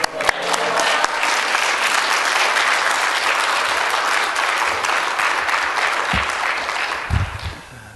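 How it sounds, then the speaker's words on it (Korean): A church congregation claps to welcome the pastor to the pulpit: dense, steady applause from a large crowd that holds for most of the stretch, then thins out and fades toward the end. "우리 할렐루야로, 우리 박수로 우리 환영하시기 바랍니다."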